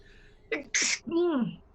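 A single loud sneeze bursts out at close range, a sharp intake followed by a forceful explosive burst and a short trailing vocal tail, during a tabletop vampire role-playing session.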